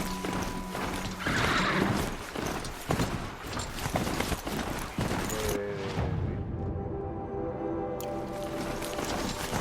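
A Strider, a horse-like machine mount in Horizon Zero Dawn, gallops at speed, its dense rapid hoof clatter mixing with mechanical whinnies and loud rushing movement that continues throughout.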